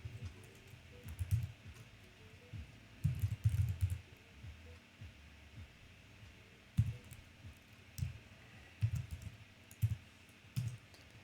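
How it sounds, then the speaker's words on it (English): Computer keyboard typing comes in irregular bursts of quick clicks and key taps separated by short pauses, close and fairly quiet against a faint room hum. "It's a lot of typing."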